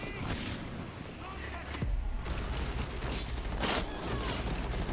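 Gunfire and explosive booms in the video game Rainbow Six Extraction, a busy run of shots and heavy low thuds over a rumbling mix, with a player's voice talking over the action.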